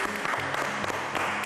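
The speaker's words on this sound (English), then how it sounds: "we want to welcome him with a big applause" A brief, steady wash of applause greets a guest on a music interview program, a dense crowd-like clapping that holds at an even level for the whole moment without any speech.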